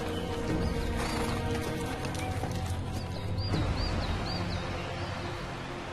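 Hooves clip-clop from a horse being ridden through a nature reserve where wolves roam, a rhythmic clatter set against outdoor ambience with a neighing horse and faint bird calls.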